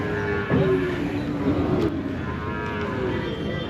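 Cattle moo at a busy cattle market in Pollachi, Tamil Nadu, with a few drawn-out low calls rising and falling over a steady crowd and outdoor murmur.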